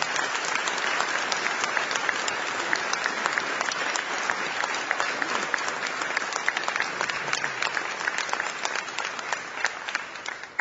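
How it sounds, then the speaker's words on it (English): A luncheon crowd at a college football signing day applauds the recruiting coordinator with sustained, dense clapping, a few sharper claps standing out near the front, steady and loud throughout with no talk. "How about a great round of applause for Stan Egan, our recruiting coordinator."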